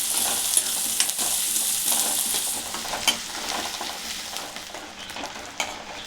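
Puffed rice upma frying and being stirred in a pan, a steady close hiss of sizzling oil broken by clinks and scrapes of a spoon against the pan, with no talk.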